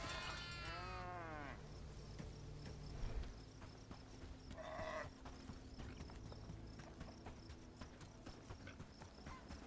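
Farm livestock in the medieval village game Bellwright: a sheep-like bleat at the start, then steady clip-clop hooves and soft thuds under low background noise, fairly faint, no speech.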